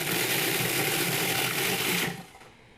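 A food processor mixes oats with cinnamon powder in a loud, steady whir, running alone for about two seconds and then cutting off as the motor winds down.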